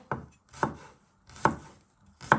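A knife chops garlic pieces in half on a board, four distinct, evenly spaced thuds close up, each sharp and punchy with a short decay and quiet gaps between.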